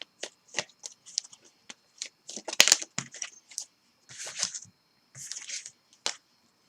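Tarot cards are shuffled by hand in a string of quick, crisp riffles and flicks with short pauses between them, close and fairly quiet, with a voice speaking at moments.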